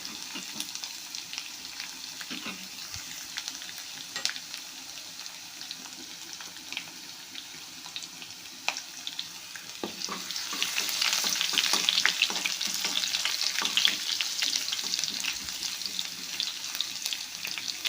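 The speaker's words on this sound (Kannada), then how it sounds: "ಎಣ್ಣೆ ಕಾದಿದೆ ಚಟ್ಪಟ ಅಂತ ಜೀರಿಗೆ ಸಾಸಿವೆ ಸಿಡಿತಾ ಇದ್ದಾವೆ" Cumin and mustard seeds splutter in hot oil with curry leaves and crushed garlic for a North Karnataka ridge gourd dish. A steady crackling sizzle rises to a louder, fuller hiss midway, with occasional stirring clinks.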